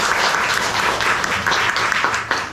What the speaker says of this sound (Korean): 우리 다시 하나님 앞에 다시 영광의 박수를 돌리겠습니다